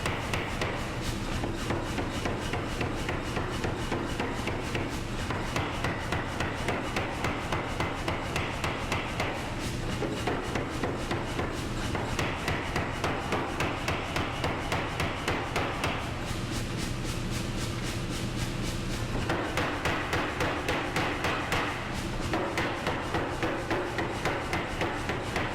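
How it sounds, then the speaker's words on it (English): A power hammer pounds a forge-welded steel billet of five layers for a Japanese wakizashi short sword, striking in a fast, steady, continuous rhythm of loud, close metallic blows throughout. "The billet is hammered with the power hammer."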